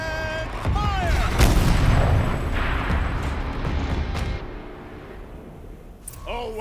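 A vehicle-mounted turret fires in Horizon Zero Dawn, a heavy booming blast with rumbling, crackling debris that slowly fades, while a voice speaks over the opening and a brief new sound enters at the end.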